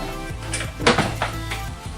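A few short plastic knocks and clunks, close by, as a lid is pressed onto a blender jar, with faint background hum.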